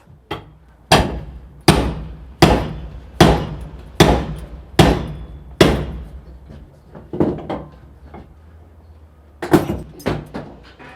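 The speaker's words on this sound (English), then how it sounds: "we've extracted the cylinder of the tubular deadbolt" A lock puller hammers at a tubular deadbolt cylinder in a door: a series of loud, sharp metallic strikes at a steady pace, then a run of quicker, lighter knocks and two final hard hits.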